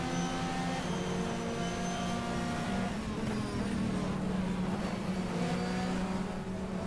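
A GT race car from the GTR2 racing game at Ontario Motor Speedway, engine droning steadily at high revs with layered harmonic whine, continuous and loud, shifting pitch slightly as it drives on without any talk.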